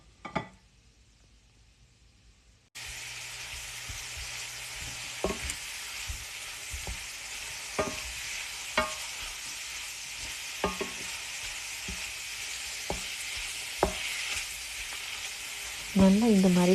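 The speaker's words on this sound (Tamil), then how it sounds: "நாங்கள் இந்த எண்ணெயில் மஷ்ரூமை போட்டு கொஞ்சம் ஃப்ரை பண்ண போகிறோம்" Mushrooms frying in oil: after a quiet start, a steady sizzle sets in, broken by sharp spatula taps and scrapes at irregular intervals, close by.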